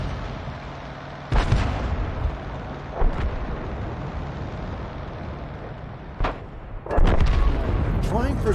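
Tank guns firing rounds in a World of Tanks-style battle involving an M41 HMC, several sharp booming shots spread over a constant rumbling engine background, loud and close.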